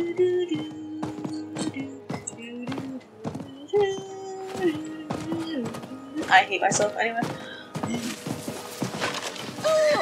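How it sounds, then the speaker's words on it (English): Horse hooves clip-clop at a steady riding pace in Diablo IV, with a neigh and game music layered in, and a voice talking over the hoofbeats. "Back to horse riding."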